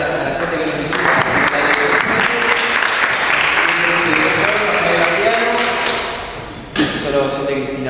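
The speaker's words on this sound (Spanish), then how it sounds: "con un fuerte aplauso le damos la bienvenida" Loud, sustained applause from the audience at a school inspectors' conference opening, welcoming the speakers, dense clapping that fades near the end before a short burst.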